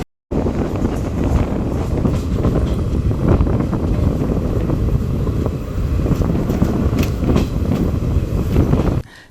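DEMU special train running at speed, a loud, dense, continuous rumble with rail clatter and wind buffeting, starting abruptly and steady throughout.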